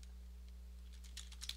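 Light, quick keystrokes on a computer keyboard while code is entered, soft and close, with a few louder taps toward the end over a steady low hum.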